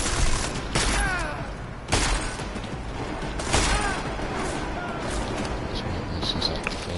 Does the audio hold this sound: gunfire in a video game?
yes